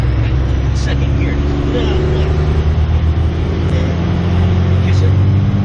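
A 1996 12-valve Cummins diesel truck with 314,000 miles tows a 37-foot camper uphill through switchbacks in second gear, a loud steady low diesel drone with wind rumble throughout.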